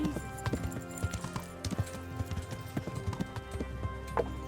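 Horse hooves clip-clop in a quick, steady rhythm, close and clear, with game music and ambient sound underneath.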